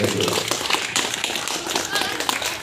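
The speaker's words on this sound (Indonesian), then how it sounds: "Tepuk tangan dulu ya, terima kasih" Scouts at a Pramuka camp clap their hands together in a dense, steady burst of clapping, mixed with children's voices and movement nearby.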